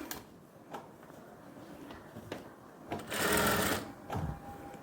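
A sewing machine top-stitches right along the edge of a ladies' pant, running in short clicking spurts with one longer, louder burst of stitching partway through.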